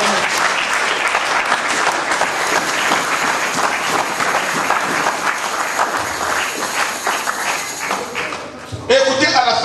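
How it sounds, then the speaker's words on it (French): A church congregation claps and cheers in sustained applause during a spiritual combat prayer service, loud and continuous, ending abruptly near the close as other sound cuts in. "Acclamons le Seigneur."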